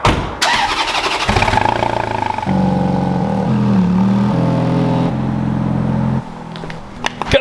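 A Ferrari engine cranks and fires up, settling into a loud, steady idle close by, with a brief blip of revs before it cuts out near the end; no talking over it.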